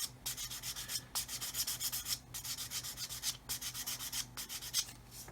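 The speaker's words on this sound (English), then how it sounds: "So we can quite happily now sand through the masking tape." Rhythmic sanding of a 1/32 scale plastic model aircraft through masking tape, quick back-and-forth rasping strokes in short bursts with brief pauses, close and fairly soft.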